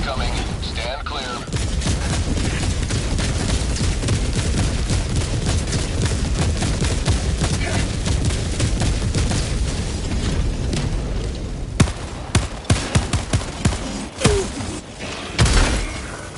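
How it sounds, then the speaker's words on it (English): An orbital barrage strike in Helldivers 2 brings a dense, continuous run of booming explosions and crackling gunfire, which breaks into separate heavy blasts toward the end, with voices under the chaos. "Orbital barrage incoming."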